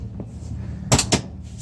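The door of a Yamaha RMAX 1000 utility vehicle swings shut and latches, two quick solid thuds close by against a low background hum.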